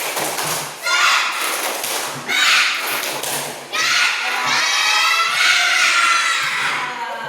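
Children in a classroom perform a rhythmic clapping chant as an icebreaker, bursts of group clapping and thumping in several phrases separated by brief pauses, with young voices mixed in.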